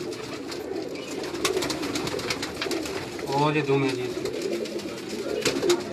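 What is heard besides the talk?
pigeons cooing on Karachi rooftop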